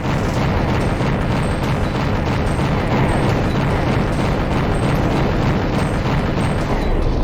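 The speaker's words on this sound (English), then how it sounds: "finally started blowing up some armor" Dense, continuous explosions and blasts in a mech combat game as armor gets blown apart, loud and unbroken, a roaring wall of booms and bursts from start to finish with no talk.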